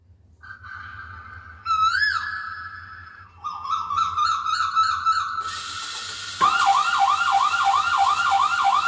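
A solar-powered scarecrow's alarm sounds in several shifting patterns: warbling electronic siren tones and rapid chirping wails step up in loudness, ending in a loud, steady looping siren.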